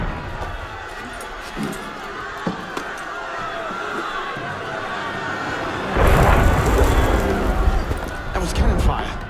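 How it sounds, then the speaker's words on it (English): Cannon fire in Assassin's Creed Unity, a loud booming burst erupting after several seconds of restless crowd murmur and game voices, with rumbling aftershocks near the end. "That was cannon fire."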